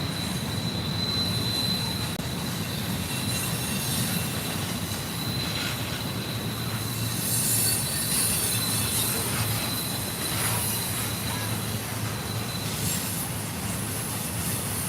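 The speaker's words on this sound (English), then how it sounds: "So yeah, pretty good sized intermodal here." An intermodal freight train rolls around Horseshoe Curve in Pennsylvania, a loud, continuous rumble of railcars with sustained wheel squeal riding on top, steady and close throughout with no talking.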